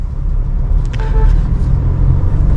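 A car passes very close in busy city traffic, with a heavy low rumble of engines and road noise and a brief tonal toot partway through.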